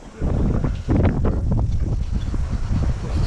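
Steady, rough wind buffeting a microphone, broadband rumble continuing throughout with gusty swells.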